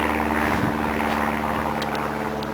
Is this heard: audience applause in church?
no